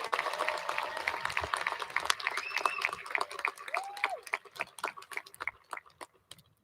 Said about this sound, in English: Let's give her another round of applause to Fatima.